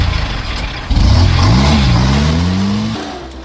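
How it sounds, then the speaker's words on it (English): A heavy artillery towing vehicle stuck in a frozen Russian swamp revs its engine hard, the loud, close drone rising steadily in pitch for a couple of seconds before easing off. "The artillery towing vehicle got badly stuck on the way back."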